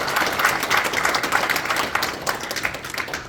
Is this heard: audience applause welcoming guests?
yes